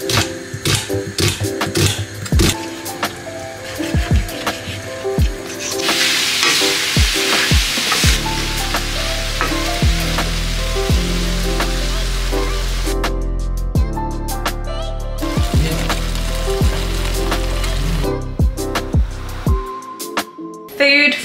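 Chopped onion and vegetables frying in a pan, a loud steady sizzle broken by utensil clacks and scraping stirs, with a backing music track running throughout.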